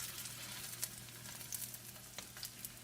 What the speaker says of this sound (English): we're going to stick it in our hot grease